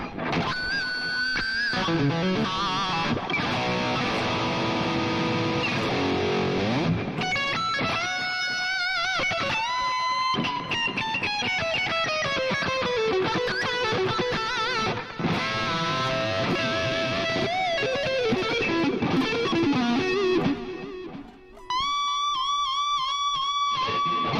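An electric guitar through a stereo delay effect plays sustained, processed notes with echoing repeats trailing each phrase, dense and continuous, ending in a brief dip before a final chord.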